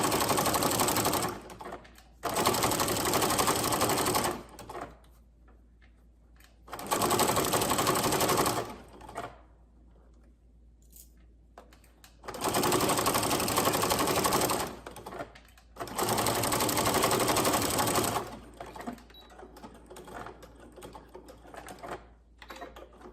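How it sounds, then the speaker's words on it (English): Sewing machine stitching binding onto the wrong side of a garment: four loud, close bursts of rapid, even stitching of a few seconds each, separated by short quiet pauses with light handling noise. "we just stitched that onto the wrong side of our garment."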